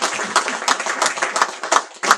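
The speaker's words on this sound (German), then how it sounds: "Jetzt klatschen wir für die." An audience applauds at a mayor's speech for an exhibition's supporting association, a dense, steady burst of many hands clapping close by for about two seconds, with no one talking.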